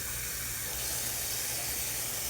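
A kitchen tap runs while collard greens are washed, giving a steady, close hiss of water splashing into the sink without a break.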